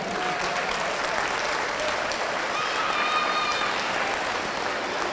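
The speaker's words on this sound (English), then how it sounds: "if you please give them one more round of applause." A crowd at a county youth fair market steer show claps for the men who donated the cattle, a loud, dense, continuous round of applause filling the arena, with some indistinct voices mixed underneath.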